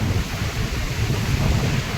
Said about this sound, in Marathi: पाण्याचाच प्रेशर आणि त्याचा आवाज तुम्ही बघू शकता किती मोठा आहे